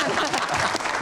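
Brief burst of audience applause at a public talk, dense close clapping mixed with crowd murmur and voices underneath.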